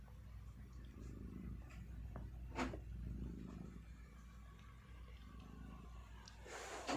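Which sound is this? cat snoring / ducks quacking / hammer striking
cat snoring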